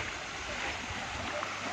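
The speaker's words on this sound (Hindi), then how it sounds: "ये जो पानी जा रहा है यही झरने के रूप में बह रहा है नीचे" Water flowing down as a waterfall at Kalyan Kedareshwar Mahadev in Sailana, Ratlam, a steady broadband rush heard close and continuous.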